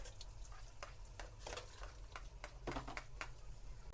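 Onion dropped into hot oil sizzles and crackles steadily, with bursts of louder spitting and a few stirring scrapes, close to the pan with no voices.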